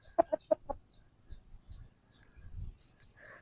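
A rooster gives three or four quick, sharp clucks near at hand, then softer shuffling and faint chirps follow in a quiet outdoor setting without talk.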